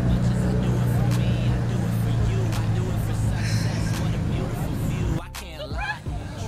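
Toyota Supra driving past at a car meetup, its engine a steady low drone under crowd chatter and voices, then a sharper revving burst near the end.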